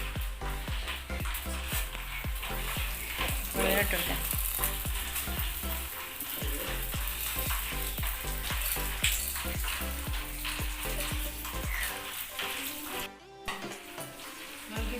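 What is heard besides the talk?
vermicelli (semiya) roasting in a pan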